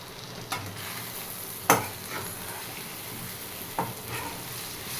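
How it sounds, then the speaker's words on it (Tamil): Pepper, coriander powder, garam masala, chilli powder and salt are stirred in a hot pan, making a soft, constant frying hiss broken by a few sharp scraping clinks of the utensil. "பெப்பர், தனியாத்தூள், கரம் மசாலா, மிளகாத்தூள், உப்பு எல்லாத்தையும் நல்லா போட்டு மிக்ஸ் பண்ணிக்கலாம்"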